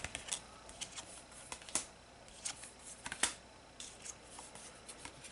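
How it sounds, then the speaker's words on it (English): Playing cards being drawn and handled during a Pathfinder Skull and Shackles tabletop card game, heard as a quiet series of short, crisp flicks and slides spaced irregularly, close to the listener with no talking. "Let's draw his cards"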